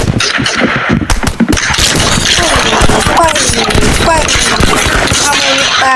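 Rapid bursts of gunfire from a shooting video game rattle almost continuously, with dense automatic fire, sharp cracks and occasional heavier booms, loud and close throughout.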